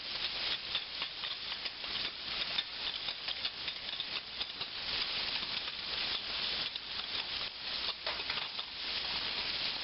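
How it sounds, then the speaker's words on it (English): A quarter cup of flour whisked into hot fat in a pan to make a roux for Southern-style chicken fried steak, with a continuous fine sizzle and rapid clicking, tapping whisk strokes throughout, no voices. "Let's whisk that flour in."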